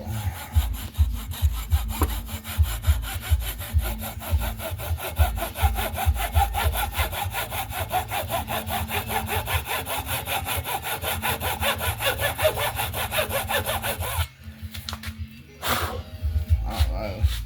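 Hand hacksaw cutting a part off a 2009 Honda CBR 600RR motorcycle, loud close rhythmic back-and-forth strokes running steadily, briefly pausing near the end before resuming.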